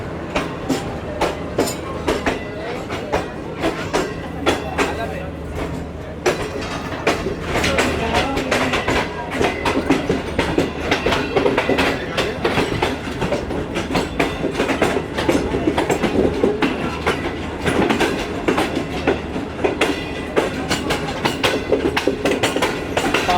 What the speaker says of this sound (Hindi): लाहौर कराची दरमियान चलने वाली 38 डाउन बाबा फरीद एक्सप्रेस। चले जी, ये भी निकलने के लिए बिल्कुल तैयार है अब।